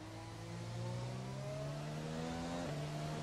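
A race car engine in the F1 2020 video game drones steadily, its pitch climbing smoothly through the gears with harmonic whine, continuous and up close without talk.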